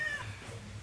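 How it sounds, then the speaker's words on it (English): A domestic cat gives one short, close meow at the start, which fades quickly into a low, steady hum. "That's my cat."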